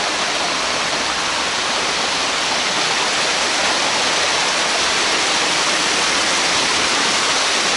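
Waterfall beside a wet cave near Ira Village, a dense, steady roar of falling water that fills the whole stretch, loud and close with no voices.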